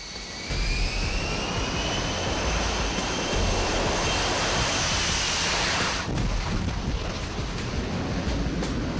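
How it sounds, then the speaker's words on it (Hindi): F-35 stealth fighter jets roar overhead at close range, a loud, continuous broadband engine rush with wind buffeting and no voices. "हवा में उड़ रहे हैं F-35 स्टील्थ"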